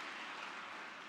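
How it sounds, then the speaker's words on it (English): Steady wash of applause from an audience at a book release event, dense and even throughout the short moment with no voices on top. "I'm not worthy of such applause"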